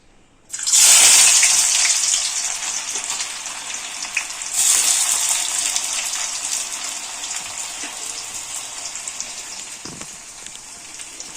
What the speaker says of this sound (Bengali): এবার এর মধ্যে আমরা পেঁয়াজ কুচানি দিয়ে দেবো